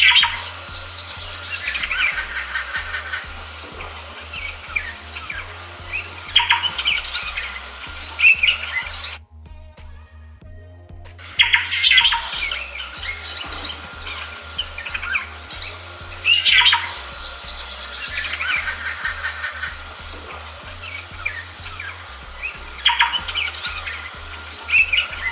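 A shrike gives repeated sharp chirps and squawking calls in bursts, with a brief quiet gap partway through, over a low steady background hum.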